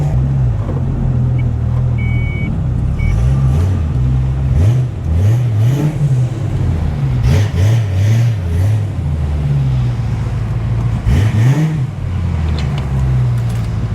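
A wrecked 1993 Ford Mustang Cobra does a burnout, its engine roaring loud and close with repeated rising and falling revs, over a steady heavy rumble that continues throughout.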